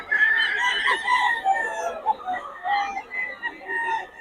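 Sweater gamefowl roosters crow and cluck nearby, their repeated calls rising and falling across the stretch, with occasional talk in the background.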